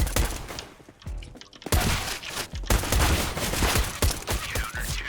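Pistol shots crack out in Counter-Strike: Global Offensive, loud and close in quick irregular clusters, with a short lull near the start before dense firing resumes and continues to the end.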